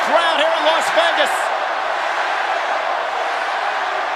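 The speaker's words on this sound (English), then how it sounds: "And listen to this crowd here in Las Vegas." Large wrestling arena crowd in Las Vegas roaring steadily throughout, a dense wash of voices under a voice talking at the start.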